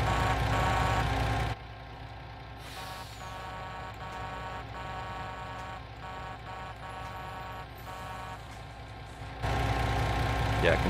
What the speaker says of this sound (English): the engine noise is louder than the horn